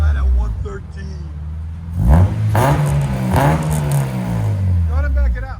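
A 2000 Honda Civic with a K24-A2 engine swap, headers and Vibrant exhaust revs loudly close by, rising and falling in pitch, while people talk over the engine.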